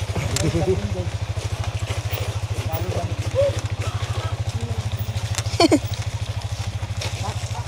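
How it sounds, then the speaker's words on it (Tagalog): Motorcycle riding slowly on a muddy road, its engine putting out a steady low throbbing beat right up close for the whole stretch, with people talking over it and a few brief clatters. "Hirap dito ng motor, ano?"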